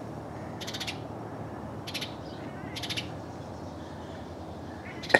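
Short bursts of high, rapid bird chirps repeat a few times at a distance in an Oklahoma suburban backyard in May, over a steady low rumble of rain or wind.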